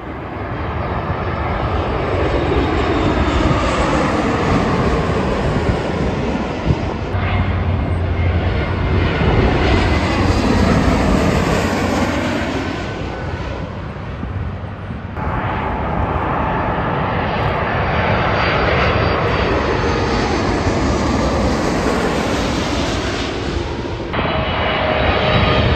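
An airliner arriving at LAX passes low overhead, its engine roar swelling, peaking and fading in long loud waves, with a second pass following, and no talking.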